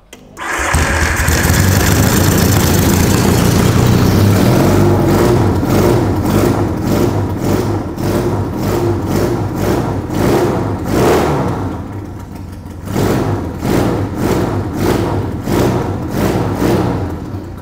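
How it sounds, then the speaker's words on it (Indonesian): A Yamaha XS650 chopper motorcycle engine cranks and fires up, then idles with a loud, lumpy beat and is revved repeatedly in rising and falling bursts, close by. "langsung aja coba kita hidupin, kita cek udah beres belum sih ini motor"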